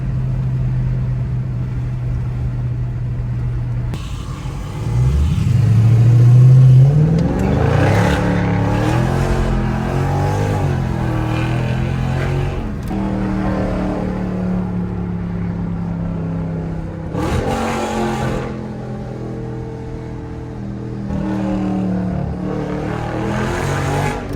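A car engine in automatic mode revs and accelerates while cruising, with a loud, rising and falling drone and clear gear-like pitch sweeps, close and steady with no talking.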